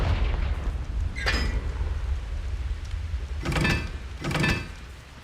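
In the Hogwarts Legacy video game, a Confringo fire spell lands as low, booming explosive bursts, one around the middle and two more close together near the end, over a steady rumbling background.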